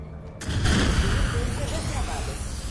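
Shot barrel exploding in the Far Cry 5 video game: a sudden gunshot and deep boom, followed by a rumbling, crackling blast that sustains loudly to the end.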